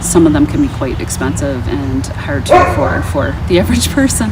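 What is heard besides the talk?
dog barking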